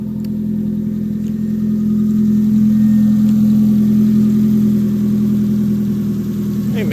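A reassembled Nissan car engine idles loud and close with a steady, even hum that holds throughout, alone without talk.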